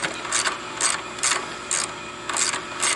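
A ratcheting wrench undoing bolts on a 2015 Kawasaki KLR 650 motorcycle, a close, regular series of short metallic clicking bursts, about six evenly spaced pulls with no talking.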